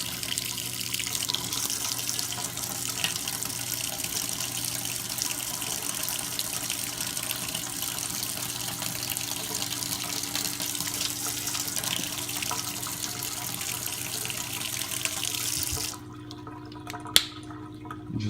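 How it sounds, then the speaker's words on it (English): Hot tap water runs steadily over a plastic action figure in a sink, a continuous broadband rush that stops abruptly near the end, leaving a quieter tail with a single small knock. "Make sure you get that hot water down in there to really heat up the plastic."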